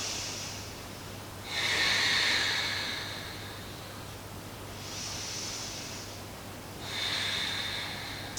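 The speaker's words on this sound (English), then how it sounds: "and you just breathe in deep" Three slow, deep breaths during a seated chair yoga session, each a soft airy rush rising and fading over a couple of seconds, close to the microphone with a steady low hum beneath.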